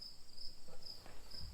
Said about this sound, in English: If the cricket picks up.